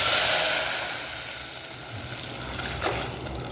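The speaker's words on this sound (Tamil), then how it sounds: "இப்போ தண்ணி ஊற்றுறேன்" Water pours steadily and loudly into a hot pot for jeera ghee rice, hissing and sizzling at first, then settling into a gentler bubbling rush.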